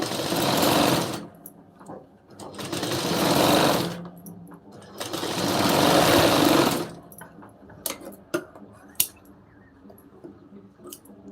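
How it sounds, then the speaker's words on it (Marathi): Domestic sewing machine stitching the lining of a blouse, running in three sustained bursts with pauses between, followed by quiet handling clicks and fabric shuffling. "आता इथून आपण टीप मारून घेऊ"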